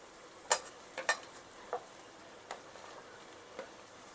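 Green beans are stirred and sautéed in a pan for vegetable pulao, giving a quiet background sizzle with a few soft scraping clicks from the spoon, alone with no talk.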